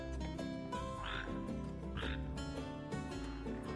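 A red frog in the Final Fantasy XV video game croaks twice in short, throaty bursts, clear and fairly near over a continuous musical background.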